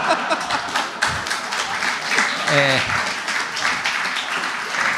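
Audience applause at an Italian comedy show, a dense wash of clapping that swells under a man's laughing, chattering voice and keeps going.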